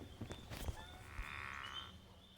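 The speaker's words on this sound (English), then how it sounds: "I'm hearing a pickerel frog." A pickerel frog calls from the water near a kayak, a low drawn-out snoring croak like a small cow, fairly faint against a background of quiet outdoor sounds.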